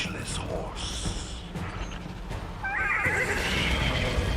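A horse neighs in Destiny 2, a loud whinny rising out of game ambience and effects, with a second stronger call near the end over a denser background.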